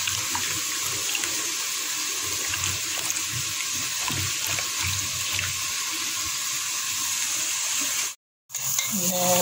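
Kitchen tap water runs steadily while tomatoes are rinsed in a sink, a close, continuous splashing stream with small clatters, cutting off briefly near the end before resuming.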